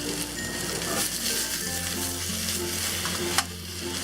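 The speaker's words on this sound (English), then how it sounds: "So just let this sit and sear for about 30 seconds." Tofu, okra and mushrooms sear in a hot pan on medium-high heat, a steady close sizzle and crackle with a brief clatter of the pan partway through.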